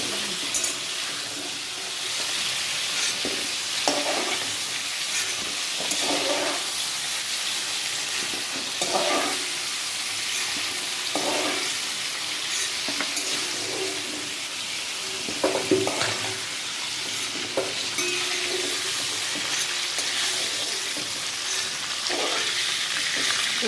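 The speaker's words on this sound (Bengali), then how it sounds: "বেশি ভাজতে হবে না, হালকা একটু ভেজে নিতেই হয়।" Vegetables for a mixed vegetable paneer dish fry lightly in a pan, with a steady close sizzle and periodic scrapes and clinks of stirring throughout, and no talking.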